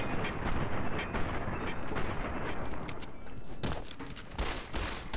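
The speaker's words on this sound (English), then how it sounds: "Yep, you are going to get shot in the head." Dense, continuous gunfire and explosions in the video game Fallout: New Vegas, loud bursts of shots rolling together with sharper cracks near the end and no talk.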